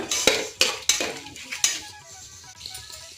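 Whole spices such as nutmeg, mace, cinnamon and cloves being fried and stirred in a pan for veg biryani, with several sharp metallic scrapes and clinks of a spoon against the pan and a faint sizzle underneath.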